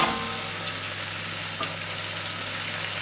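Flour cooking in melted butter in a pan for a white sauce gives a quiet, even sizzle with a low steady hum beneath and one or two faint clicks.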